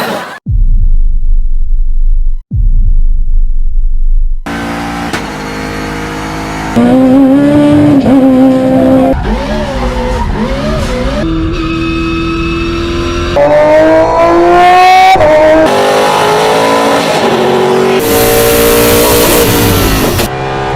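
Race car with straight-cut spur gears accelerating hard, loud engine revs climbing through repeated upshifts with the gears whining over the roar, opening after brief low rumbles.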